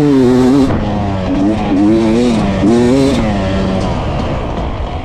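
A two-stroke enduro motorcycle revs loud and near on a crisp early morning in the woods during an enduro race, its pitch climbing and dropping in repeated rising sweeps before easing off.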